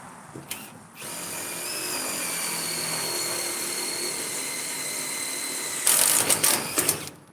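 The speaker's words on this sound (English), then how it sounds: "pre-drill all our holes" A power drill pre-drills holes while a trailer work bench is installed, whining steadily for several seconds, then speeding up and cutting out in a few short closing bursts.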